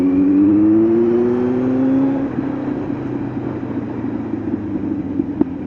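A Kawasaki Z900 or Hayabusa Gen3 superbike engine revs on a night city ride, a rising whine for two seconds that settles into a steady rumbling drone, with a single brief knock near the end.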